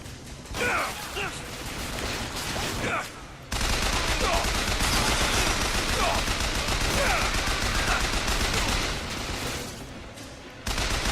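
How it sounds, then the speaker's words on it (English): In BioShock Infinite, a burst gun fires in dense, continuous volleys of loud gunfire that carry on for most of the stretch, with a short pause near the start and another near the end. "It's a burst gun."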